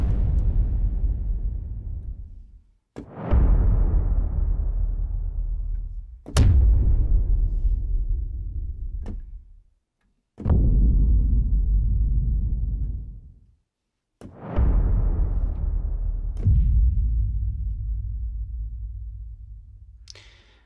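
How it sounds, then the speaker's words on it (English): Five or six deep booms from the Keepforest Evolution Atlantica sound library, each striking hard then rumbling out over a couple of seconds before the next hits, heavy and loud, with no talking. "now some low booms."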